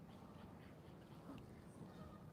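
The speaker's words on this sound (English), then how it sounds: "on a scale of 1 to 10, guys, how loud are the geese" Geese calling on a stream roughly fifty yards off, a steady faint chorus of honks and quacking cries over constant water and outdoor background noise.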